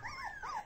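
An eight-week-old puppy whimpers in a short, high, wavering whine that rises and falls twice, close and fairly soft, with no talking.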